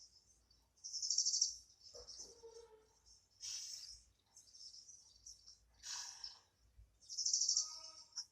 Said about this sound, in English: There are many beautiful birds.